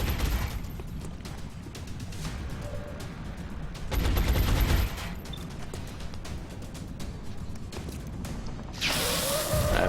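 Sustained suppressive gunfire in the video game XCOM: Long War, with rapid, continuous bursts of shots running throughout, heavier blasts near the middle and a dense burst at the end, with no voices.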